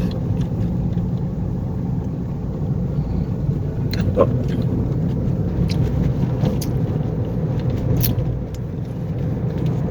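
A jeepney rolls through Manila streets toward Divisoria and Quiapo at dusk, its engine rumbling steadily with road noise throughout, plus faint scattered clicks and rattles and no clear talk.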